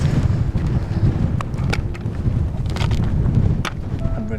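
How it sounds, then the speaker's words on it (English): Strong wind buffets a microphone on an open hilltop in Lanzarote, a steady, loud low rumble with gusty swells throughout and a few brief knocks and rustles over it; no one speaks. "The wind's really started to pick up."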